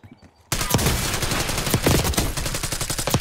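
Rapid automatic gunfire from Call of Duty Black Ops 6 erupts after a brief quiet moment, loud and sustained bursts of overlapping shots with sharp cracks continuing to the end.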